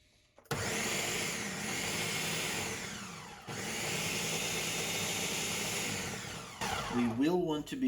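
Blender pureeing a roasted red pepper dip, a loud steady whirring motor that runs for several seconds, dips briefly, then resumes before cutting off near the end.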